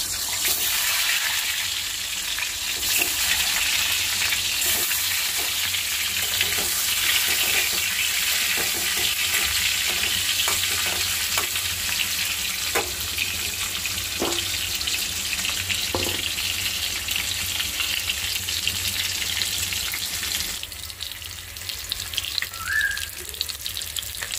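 Okra frying in hot oil, a steady broadband sizzle running throughout with scattered stirring clicks, the bubbling easing slightly near the end; no talking.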